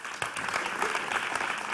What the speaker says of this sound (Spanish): vente, que te aplaudimos y todo